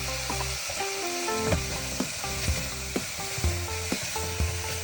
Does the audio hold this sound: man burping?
no